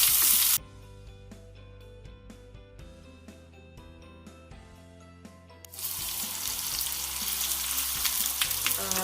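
Crushed shallots, green chili and ginger sautéing in coconut oil in a clay pot for a Kerala prawn curry: a steady sizzle, quiet at first, then jumping to a louder, bright frying hiss about halfway through.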